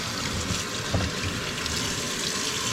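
Hot water running steadily from a household tap, a continuous faint splashing flow with no talk.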